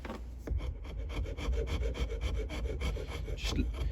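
A sharp old blade, pocket-knife style, shaves wood from a framing hammer handle being re-handled, giving a steady close scraping rasp that runs continuously with faint talk underneath.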